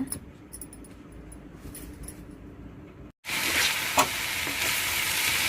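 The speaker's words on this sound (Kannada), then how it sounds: "ನೋಡಿ, ಎಣ್ಣೆ ಬಿಸಿಯಾಗಿದೆ. ಈಗ ಕೈ ಆಡ್ತಾ ಇದ್ದೀನಿ." Brinjal pieces being stirred by hand in hot oil, a soft hiss and light rustling that cuts out briefly, then returns as a much louder, bright, continuous sizzle with a sharp knock.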